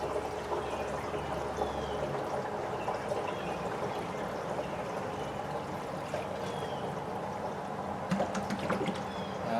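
Diesel exhaust fluid pours from a jug into the DEF tank of a 2016 Ford F-550, a continuous liquid rush and gurgle close by that runs steadily for several seconds, ending in a few splashes.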